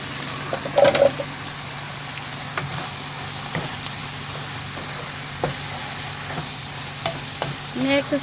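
Food stirred and fried in a frying pan, with steady sizzling and repeated scraping and tapping of a utensil, a few louder knocks near the start and end.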